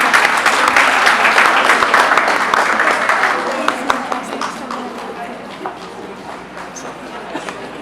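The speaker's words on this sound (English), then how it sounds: "Clap for Suha, please." Audience at a grade 3 graduation claps for a student, a loud burst of many hands at first that thins out into scattered, sparser claps, with some voices murmuring underneath.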